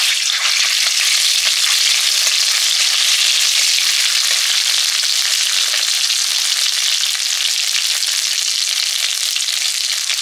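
Black cumin, cumin and dried chili paste fry in oil, giving a loud, steady, dense sizzle that holds evenly from start to finish, with no voices.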